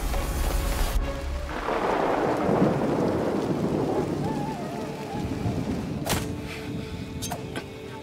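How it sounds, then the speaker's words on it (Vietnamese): Heavy rain pours steadily in a thunderstorm, with a deep rolling thunder rumble building early and fading beneath the dense hiss of rainfall, loud and close throughout. "Trận mưa này chắc sẽ không tạnh ngay đâu."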